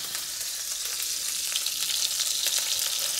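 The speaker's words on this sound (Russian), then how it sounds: "минутки 4-5 жарим до золотистой корочки" Pork chops in potato batter sizzle and spatter steadily in a hot pan, a constant close crackling hiss with no talking.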